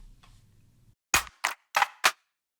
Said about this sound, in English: for this one we went for more like natural claps and claps with Foley on it